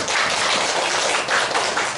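A congregation at a Sunday morning church service claps together in a brief, dense round of applause that fills the room for a couple of seconds.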